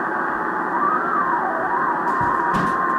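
A thin, wavering birdie whistle drifts in pitch over steady band hiss on a 1970-era Drake 4-Line tube ham radio receiver tuned by a Raspberry Pi DDS-VFO, with a couple of faint clicks near the end.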